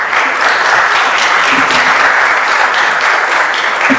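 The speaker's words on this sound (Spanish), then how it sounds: "Le recibimos con un fuerte aplauso" Loud, dense applause from a conference audience welcoming a guest lecturer, a steady wash of many hands clapping that holds evenly throughout.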